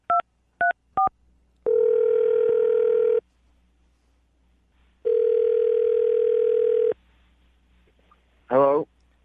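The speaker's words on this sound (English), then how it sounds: "I'm going to dial the phone number right now and see what he says." A telephone handset plays short touch-tone dialing beeps, then two long steady dial or ringback tones with a pause between, ending in a brief warbling tone; loud and close, with no talk over it.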